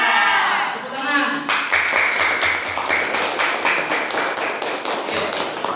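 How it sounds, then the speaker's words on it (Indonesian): A class of children claps together in a lesson, a loud patter of hands settling into a quick rhythmic beat after a brief voice at the start. "Tepuk tangan"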